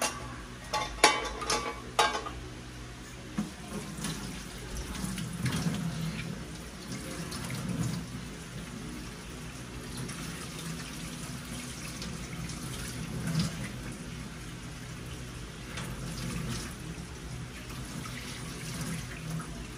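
Face being washed under a running tap, a continuous close stream of water with splashing and rubbing, a few louder splashes early on, and only faint hints of voices.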